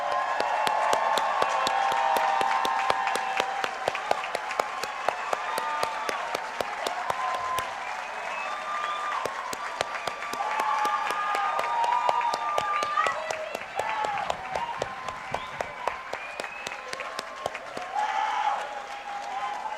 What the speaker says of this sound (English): please stand so we may recognize you with a thunderous round of applause